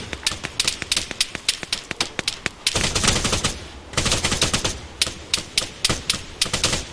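Rapid gunfire from the video game Arma 3, with loud sharp shots cracking in quick bursts and a dense stretch of sustained automatic fire in the middle.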